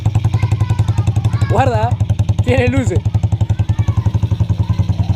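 A used delivery motorcycle idles steadily after a kick start, its engine pulsing in a fast, even rhythm close by while someone speaks briefly over it.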